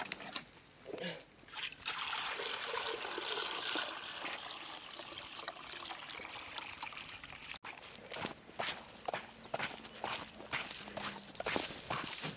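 Water is poured in a steady, rushing stream for several seconds, then breaks into scattered splashes and shuffling steps, fairly close but quiet.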